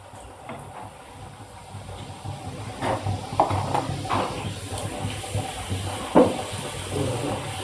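Luchi puffing in a pan of hot oil give off a steady sizzling hiss, with a few sharper crackling spurts as dough hits the oil, close and fairly loud with no voices.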